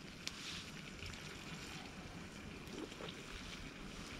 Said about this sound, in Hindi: हवा चल रही है, बस ये टार्प के हिलने की आवाज़ आ रही है